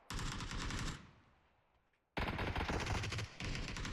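Loud, close automatic gunfire in PUBG: a rapid burst for about a second fades into a short echoing tail, then a second long burst of rapid shots follows after a brief pause.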